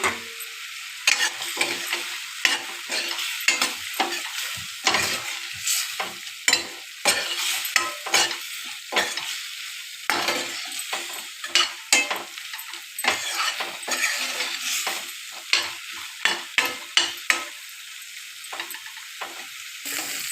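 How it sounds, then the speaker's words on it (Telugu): Cauliflower pieces stirred through a thick gravy in a pan, a steady sizzle under frequent sharp scrapes and clinks of a spoon against the metal, the strokes coming in irregular close bursts. "ఇలా గ్రేవీ అంతా క్యాలీఫ్లవర్ పీసెస్కి పట్టేలాగా కుక్ చేసుకోవాలండి"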